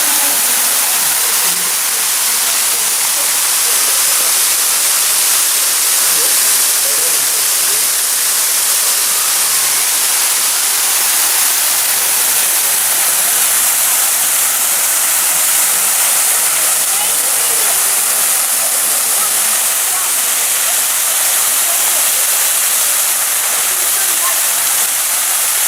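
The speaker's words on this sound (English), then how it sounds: "He was filming the fall, enjoying the sound and the quiet." A waterfall dropping nearly 90 feet in an Ohio forest gives a loud, steady, broadband rush that holds unchanged and close throughout, with no voices.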